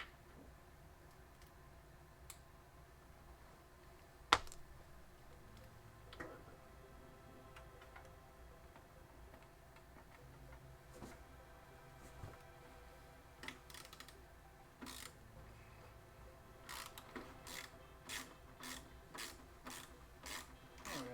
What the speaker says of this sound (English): So let's use this here socket wrench